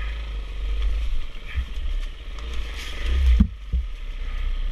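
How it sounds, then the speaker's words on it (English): A motorcycle engine idles and runs loudly outdoors with a steady low rumble, a brief clattering burst midway, and no voices over it. "Turn my bike on."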